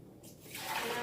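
Ice cold water pours into a Vitamix blender jar, a soft rushing stream that swells and grows louder through the second, heard alone and fairly quiet.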